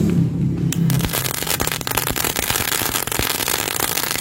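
A mercon rabi bang firecracker lit with a lighter: a short quiet moment, then the fuse catches and bursts into loud, dense sputtering and crackling up close.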